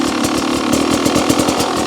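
A 2026 Beta 300 RR X-Pro two-stroke motorcycle idles just after its first start, with a steady, close, loud and slightly uneven low-revving putter. The engine runs alone with no talk.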